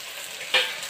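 Mustard seeds, cumin, onion and curry leaves sizzle in hot oil, a steady close frying hiss with one brief louder crackle partway through, no voices.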